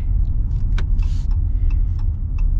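A Ram pickup truck's V6 engine hums low and steady from inside the cab under light acceleration, with faint clicks and taps over the drone.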